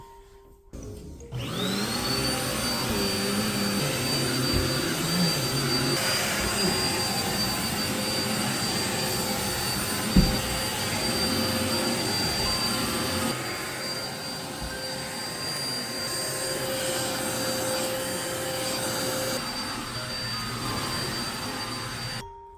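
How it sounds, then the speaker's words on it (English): A vacuum cleaner runs steadily for about twenty seconds while a room is vacuumed, a loud continuous motor whine with a high steady tone, starting abruptly and holding nearly constant with small shifts as it moves, no talking. "Vacuuming is such a workout."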